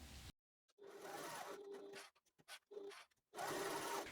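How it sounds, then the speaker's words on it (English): A sewing machine runs in short bursts while stitching the top edge of fabric pocket pieces, close mechanical whirring with stops and brief stutters between runs, ending in a longer burst. "We're going to sew this top edge and then we're going to sew these corners down here."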